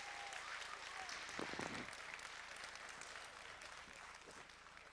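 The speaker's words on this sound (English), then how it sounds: "Let's give them a big round of applause." Applause from the audience for the host school team at a robotics qualifier, sustained even clapping across the whole stretch, faint and somewhat distant, with a brief voice near the start.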